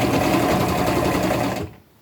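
A sewing machine stitches a flannel tunic cuff in one fast, steady run of close rapid needle strokes, stopping abruptly near the end.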